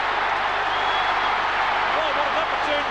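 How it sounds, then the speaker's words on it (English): An Australian football crowd roars and applauds after a goal, a dense, steady wall of cheering and clapping that holds at full volume throughout, with a commentator's voice faintly over it. "Listen to the crowd."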